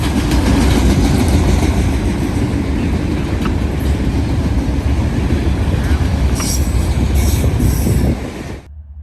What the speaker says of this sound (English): Waiting in the siding behind me after 189 cleared was NS westbound empty potash train 61P